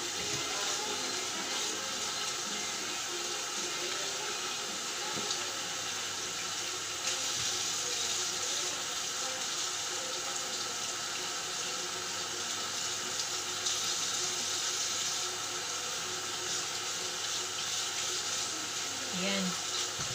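Vegetables washed under a running kitchen tap: a continuous rush of water into a sink for the whole stretch, with small splashes and handling noises and a faint murmur of voice in the background.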